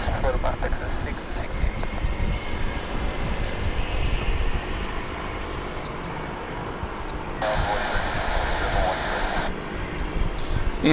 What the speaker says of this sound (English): Obviously a cargo aircraft there.